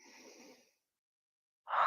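A single deep inhale during a yoga chakra exercise breathes in softly and close. After a silent pause, a stronger rush of breath begins.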